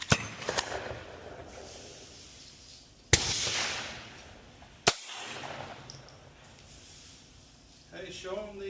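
Brand-new .22 pistol shots at a Texas gun range: two sharp, loud cracks a couple of seconds apart, with one faint earlier pop, over steady outdoor range noise and a bit of distant chatter.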